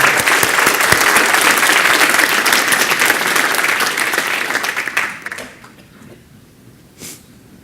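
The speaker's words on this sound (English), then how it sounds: "So let's give him a round of applause." Audience applause at a tech conference talk, loud and dense crowd clapping that holds steady for about five seconds, then fades quickly to a quiet room with a last faint rustle.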